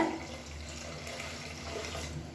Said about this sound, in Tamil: இப்போ நான் வந்து ஒரு 1/2 லிட்டர் அளவுக்கு தண்ணி சேர்த்துருக்கேன்